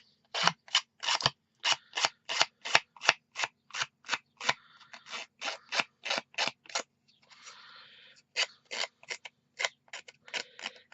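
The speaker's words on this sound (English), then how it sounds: "take my X-Acto knife and just churn up the ends a wee bit" An X-Acto knife scraping and roughing up paper edges on a card, a rapid series of sharp, close rasping strokes in an uneven rhythm, with a short rustling pause in the middle.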